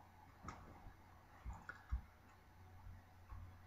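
Computer mouse clicks while drawing a jigsaw puzzle pattern in Corel Draw: faint, sparse clicks spaced irregularly about half a second to a second apart over quiet room hiss.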